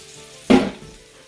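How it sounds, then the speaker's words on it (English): Baby bella mushrooms, 16 ounces, going into a hot pan for sautéing: a single sudden burst of sizzle that swells and fades within a few tenths of a second, close by, against a quiet kitchen background. "I'm going to saute baby bella mushrooms."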